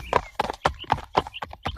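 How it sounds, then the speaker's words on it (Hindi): Cartoon sound effect of a horse's hooves clip-clopping at a steady, quick rhythm as it sets off toward a forest in an animated fairy tale; the sharp, close hoofbeats repeat about seven times with no talking. "दूसरे दिन सूर्या अपने शानदार घोड़े पर जंगल की तरफ रवाना हो गया"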